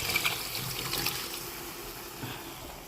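Cooked liquid poured into a cooking pot gives a steady, soft splashing and trickling that lasts a few seconds, with no talking.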